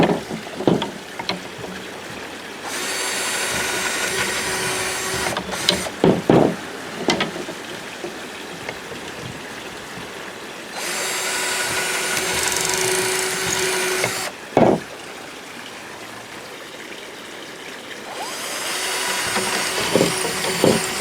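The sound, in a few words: power drill drilling holes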